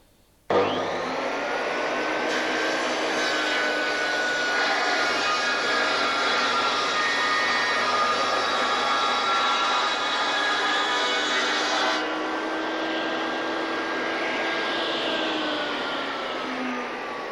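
Triton saw cutting a taper in wood, starting abruptly and running as a loud steady whine for the whole stretch, the pitch dipping slightly as the board slides through and then easing near the end.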